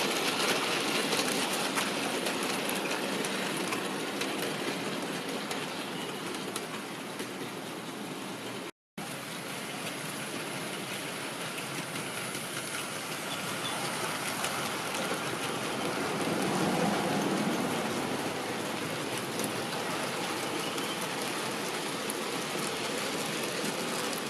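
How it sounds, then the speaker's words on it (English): Large model railway locomotives running laps on a layout track, a steady continuous rolling hiss and rumble of wheels on rails with one brief dropout, no voices. "these two locomotives have done about 5 laps of the track now with neither having any derailments"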